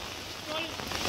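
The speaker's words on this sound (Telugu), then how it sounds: "వాన మాత్రం ఇచ్చి పడేస్తుంది." Heavy rain pours down on a university campus during flooding, a dense, steady hiss of falling water that fills a brief moment.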